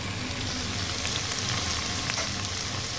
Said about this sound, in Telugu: మష్రూమ్స్ కూడా యాడ్ చేసుకొని అవి కూడా మంచిగా కుక్ అయ్యేటట్టు ఫ్రై చేసుకోవాలి.